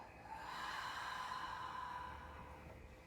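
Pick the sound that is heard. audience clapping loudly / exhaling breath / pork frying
exhaling breath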